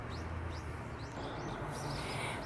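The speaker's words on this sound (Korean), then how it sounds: "새들의 소리가 상당히 시끄럽습니다." Small birds chirp and tweet in repeated short calls outdoors near a garden of succulents, moderately loud over a steady background hiss, with no talking.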